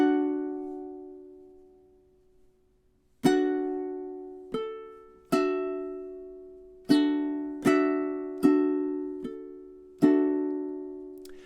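A ukulele picks a phrase slowly, with a long opening note ringing out, then a pause and a series of plucked notes in uneven rhythm, close and clear with no talk.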